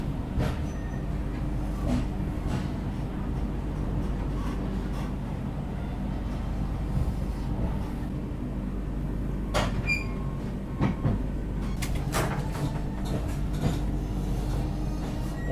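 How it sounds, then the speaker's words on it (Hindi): Steady rumble and clatter of the Tejas Rajdhani Express rolling onward after leaving Kota Junction, heard from inside a coach with occasional sharp knocks and rattles over the track. "और अपनी तेजस राजधानी भी निकल चुकी है कोटा जंक्शन से"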